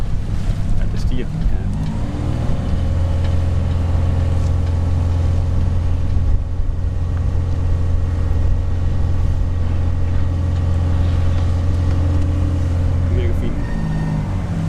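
A boat engine running steadily with a low droning hum, throttled up so the pitch rises, while a thin high squeal from the propeller sits above it; someone talks over the sound.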